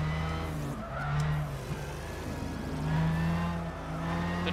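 Racing cars in the Gran Turismo 6 video game roar at high revs with shifting engine pitch and squealing, skidding tyres, loud and continuous with no voices.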